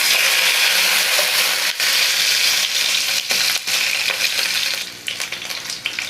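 Fish pieces frying in hot oil with turmeric, a dense, steady sizzle that stays loud throughout with small crackles and a brief dip toward the end.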